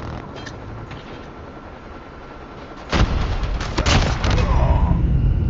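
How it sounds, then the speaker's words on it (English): A grenade explodes in the mobile shooter Call of Duty Mobile: a sudden loud boom cuts in partway through, followed by further rumbling blasts and gunfire-like bursts over a steady background din. "Grenade out."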